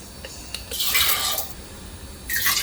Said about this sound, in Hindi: इसमें डालते हैं 3 कप पानी।